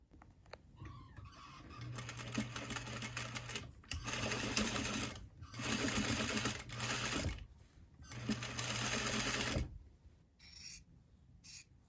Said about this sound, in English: I am going to do a row of understitching along this seam here